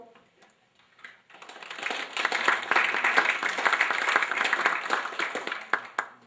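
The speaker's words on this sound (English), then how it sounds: "It's lukewarm applause." Lukewarm audience applause at a University of Windsor panel discussion, starting after a quiet second and building into steady, moderate clapping from a modest crowd that trails off with a few scattered claps at the end.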